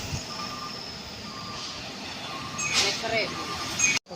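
A heavily loaded Canter truck on a climb sounds its reversing beeps repeatedly and rises into a louder engine rev near the end, over steady outdoor road noise.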